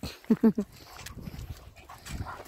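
A large dog straining on its leash during a walk gives three quick whimpering vocal bursts close by, then scuffling and heavy breathing continue more faintly.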